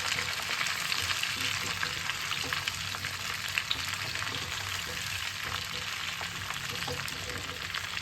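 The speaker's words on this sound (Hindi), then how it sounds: "इसको तेल में डाल के अच्छे से फ्राई कर लीजिए।" Amla and jalpai (olive) pickle fries in hot oil, giving a steady, dense sizzle that crackles evenly and close by for the whole stretch, with no voices.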